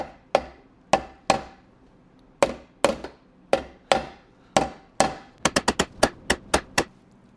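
Sharp metal taps while a transmission part is driven into place during assembly of a 1972 Triumph GT6 gearbox, a dozen or so distinct close strikes, spaced out at first, then a quick cluster of lighter, faster taps.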